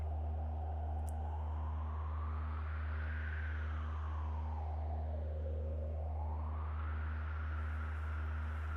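A low drone from a Moog Mother-32 synthesizer hums steadily while a tone sweeps slowly up and down over it, softened by a faint wash of reverb.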